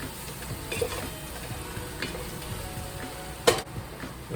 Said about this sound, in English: I'm going to stir very well.